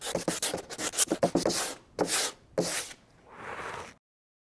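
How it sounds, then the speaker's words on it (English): Hand sanding of not fully dry body filler on Corvette Z06 rockers: quick rasping strokes, then several longer scrubbing passes, close and fairly quiet, with no talking. "So this is the downside of sanding when it's not fully dry"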